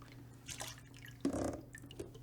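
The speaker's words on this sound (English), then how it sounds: "then pour the soapy water out." Soapy water poured out of ventilator circuit hoses during cleaning, heard as a few soft trickles and drips, with a brief louder splash of liquid in the middle, close by and without any talk.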